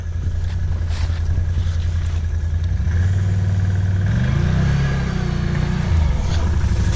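Stuck vehicle's engine revving loudly and close while trying to back up, a sustained rumbling drone that rises and wavers in pitch with a gusting wind noise, no speech.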